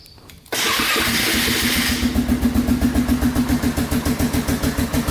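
A Kawasaki KX 80 dirt bike engine cranks and catches abruptly, roaring up loud and close before settling into a rapid, pulsing two-stroke idle with a steady rhythmic chug.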